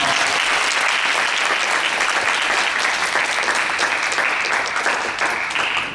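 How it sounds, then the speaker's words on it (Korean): A church congregation applauds during a Sunday worship service, with steady, dense clapping that fills the room at a loud, even level throughout and fades slightly at the very end. "큰 박수 주세요"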